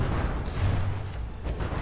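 Naval guns on a warship fire in a From the Depths tournament battle, heavy booming shots rumbling low and loud with a dense, continuous roar of battle behind them.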